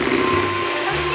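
An electric hand mixer whirs through zebra cake batter with cocoa, a steady close motor whine with a slight shift in pitch, and no talk over it.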